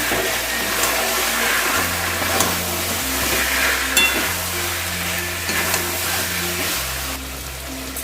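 Kadhai chicken spices with Kashmiri chilli powder frying and being mixed in a wok, a loud continuous sizzle with stirring scrapes over a steady low hum.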